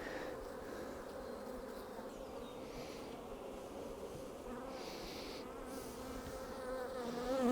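Bees buzz around an open beehive during a hive inspection, a continuous drone of many insects with individual bees passing close and loud, swelling toward the end.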